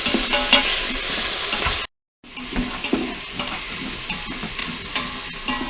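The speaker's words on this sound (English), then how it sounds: "So let's just saute that right up, huh? Yep. We're going to saute the vegetables" Vegetables and bacon sizzle and get stirred in an Instant Pot on its sauté setting, giving a steady close frying hiss with scraping stir strokes and a brief cut in the middle.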